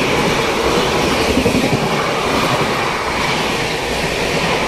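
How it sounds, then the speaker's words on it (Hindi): Another train overtakes alongside the Dadar Express bound for Mumbai, a loud, continuous rush of wheels and rumbling carriages running close by without a break. "अच्छा, ओवरटेक कर रही है कोई ट्रेन"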